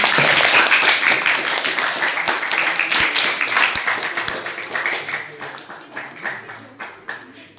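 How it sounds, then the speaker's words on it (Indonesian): An audience at a teaching seminar breaks into lively applause. The clapping is dense and loud at first, then thins into scattered claps as it fades. "Tepuk tangan untuk kita semua."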